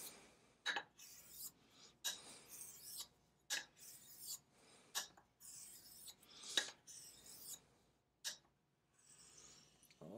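A straight razor blade is honed on a sharpening stone during its restoration, giving a series of quiet, separate scraping strokes, each a short rasp, repeated at an uneven pace with brief pauses between them.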